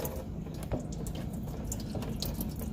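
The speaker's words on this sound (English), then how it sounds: "take the top radiator cap off, let it drain out" Coolant drains from a car radiator with the top cap off, a steady trickling, splashing flow with scattered drips, close and moderately quiet.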